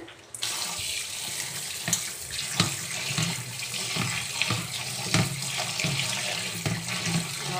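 Raw chicken, soaked with onion and turmeric, is rinsed under a running kitchen tap, the water pouring steadily and close for several seconds with no one talking.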